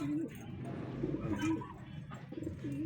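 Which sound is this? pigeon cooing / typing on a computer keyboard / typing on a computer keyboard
pigeon cooing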